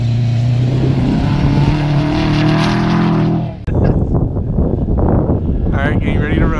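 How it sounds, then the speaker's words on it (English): Four-wheel-drive rallycross cars race at an event, a loud sustained engine drone for a few seconds that breaks off into a busier mix of nearby crowd noise and chatter with motor sound behind it. "All the four-wheel drives are racing."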